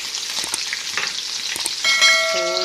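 A chicken mixture for a desi-style green bean chicken dish hits preheated cooking oil and sizzles loudly and close, with a brief ringing metallic tone near the end.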